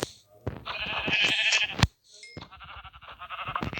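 Two short sheep bleats from a survival video game, with a sharp click between them, game-like and fairly close, separated by a brief silence.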